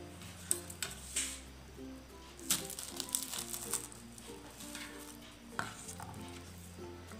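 Knife cutting through a crispy, golden deep-fried sambar vadi, a Vidarbha-style stuffed snack, giving several sharp crunchy cracks and scrapes at close range over a quiet kitchen background.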